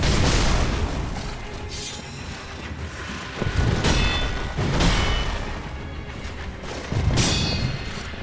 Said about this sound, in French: Les pétards Shinobi.